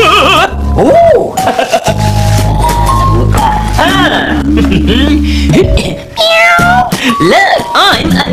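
A man imitates a cat with his voice on a children's TV show, making a string of loud, close, drawn-out meows that bend up and down in pitch.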